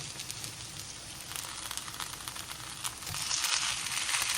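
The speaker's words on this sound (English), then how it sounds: "I'm going to take a couple of spatulas and very gently turn these over." Potato cakes frying in a pan, a continuous bright sizzle with crackling spatters throughout, rising a little louder near the end as they are gently turned with two spatulas.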